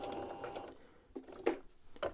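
A sewing machine puts a few securing stitches into T-shirt knit fabric, heard as short, close, mechanical whirring bursts with small clicks and pauses between them.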